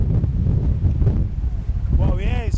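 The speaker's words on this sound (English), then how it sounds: "it's still windy" Wind roars steadily against the microphone on a seafront balcony during the Brighton half marathon, a dense low rumble with a voice speaking over it.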